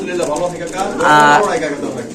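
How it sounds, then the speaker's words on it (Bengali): Pigeons cooing in a loft, with soft throaty rolling coos close by, mixed with a person talking over them. "চলে আসুন আমাদের প্রিয় বাসার কাকার কবুতর লফটে"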